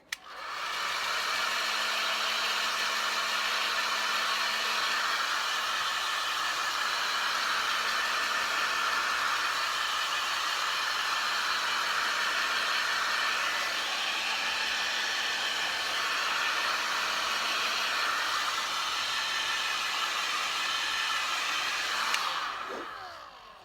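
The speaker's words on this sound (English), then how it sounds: "I'm using my heat gun. I'm just making sure I don't get too close to the baby." A heat gun blows hot air steadily over a silicone baby doll being matted, producing a loud, continuous whooshing roar for over twenty seconds before it cuts off at the end.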